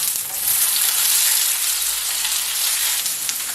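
Paprika and onion sizzle in a hot frying pan with a steady, bright crackling hiss that holds close and loud, with no talking.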